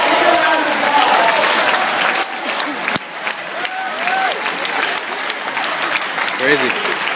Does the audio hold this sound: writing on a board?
no